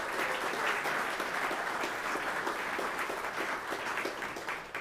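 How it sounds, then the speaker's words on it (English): A crowd applauds steadily at a mayoral State of the City address in Elmhurst, honoring the nation's 250th anniversary; dense, sustained clapping from a large audience, slightly distant, fading a little at the end. "how about let's give a round of applause to the United States"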